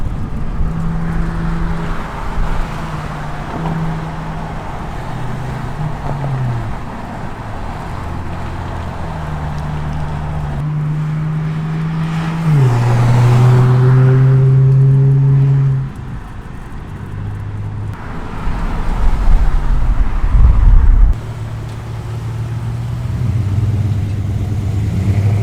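A car drives alongside at steady speed with a low engine hum, climbs in pitch as it accelerates in the middle, then eases off and surges again, all close and continuous.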